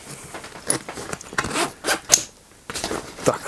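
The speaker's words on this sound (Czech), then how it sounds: "Všechny kapsy i komory jsou přístupné dvoucestnými zipy." A two-way zipper on a large MIL-TEC Assault II military backpack opens a pocket in several quick close rasping pulls, separated by brief pauses, with no talking.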